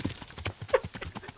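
Horse hooves in a video game beat out a quick, rhythmic clip-clop at a canter, fairly faint and close, with the steady pattern of the strides carrying through a jump.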